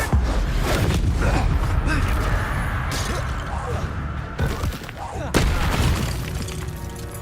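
A Confringo fire spell blasts during combat in the Hogwarts Legacy video game, a dense, loud rush of booming and shattering effects with a sharp hit partway through, mixed under a voice talking.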